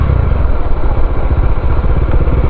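Several motorcycles ride along a road, their engines giving a steady, close, rumbling drone with a constant clattery texture and no break.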